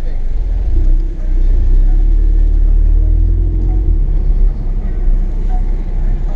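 Audi TTS and Chevrolet Camaro engines rumbling and revving inside a tunnel, a loud, steady, reverberant low drone that persists throughout with no break.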